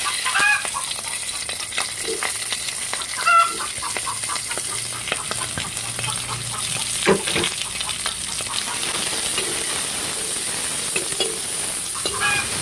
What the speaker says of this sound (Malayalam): ഇനി പച്ചമുളകും സവാളയും കൂടി ഇട്ട് കൊടുക്കാം.